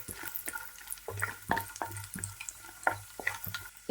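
Cashews and raisins frying in ghee in a pan, quiet sizzling punctuated by repeated scraping stir strokes and small clinks, close and soft with no talk.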